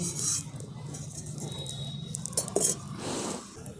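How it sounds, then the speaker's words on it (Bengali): A metal karai wok is set down on a lit stove, making a faint, brief metallic clink and clatter over quiet kitchen background noise. "এরপর কড়াটা বসিয়ে দিচ্ছি।"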